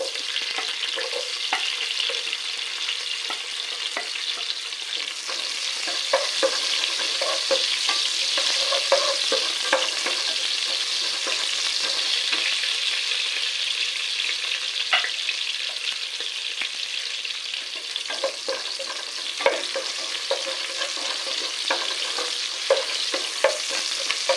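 Garlic and shallots fry in a pan with ginger, giving a steady, close sizzle that runs throughout, broken by frequent scraping and stirring clicks; no one speaks.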